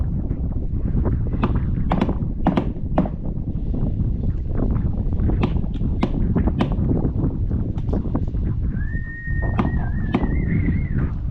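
Strong wind roars continuously, buffeting the microphone with gusts and rumble, while a brief rising whistle-like tone cuts through near the end.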